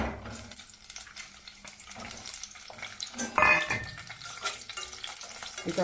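Capsicum pieces fry in hot oil in a pan, a steady close sizzle with stirring scrapes on top and one brief louder clatter partway through, without any speech.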